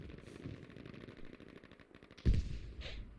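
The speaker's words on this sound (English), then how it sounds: "a big explosion going off. Called in by the artillery" Gunfire crackles steadily in a Frontlines game match, then a loud artillery blast booms near the end and rumbles off, followed by a fainter burst.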